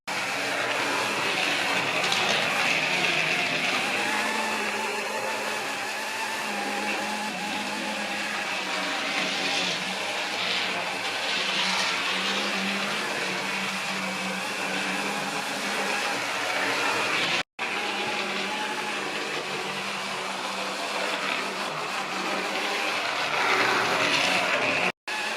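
Sam's Trains Gresley's Rocket model train runs at full speed around its track, a steady whirring motor and rattling wheels continuing for the whole stretch without a break, fairly close and consistent, with only a brief dropout near the end.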